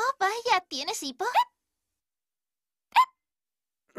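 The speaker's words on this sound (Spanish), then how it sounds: "Oh, vaya. ¿Tienes hipo?" Speech at the start, then after a pause a single short hiccup from a cartoon girl, with another beginning just at the end.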